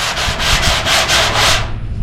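Rhythmic back-and-forth scraping of a sanding block with 80 and 180 grit paper over primed bodywork on a 1962 Impala lowrider, about six close, loud strokes before stopping.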